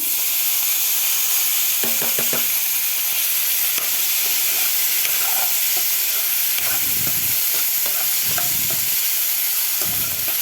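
Chopped onion pieces fry in a hot pan for a capsicum and dried fish curry, giving a loud, steady sizzle with a few scraping stirs and light clinks of a spoon against the pan.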